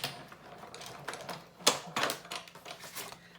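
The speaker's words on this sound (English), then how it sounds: "if you're using a 3D embossing folder in the die cut and emboss machine" A hand-cranked die cut and emboss machine pressing a card through a 3D embossing folder, producing irregular clicking, rattling and crunching bursts with one sharp louder crack partway through.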